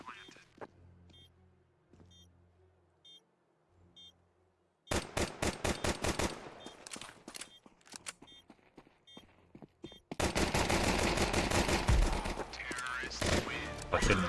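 Gunfire in a shooter video game, starting with sparse clicks, then rapid bursts of shots, and finally a loud, sustained barrage of overlapping fire.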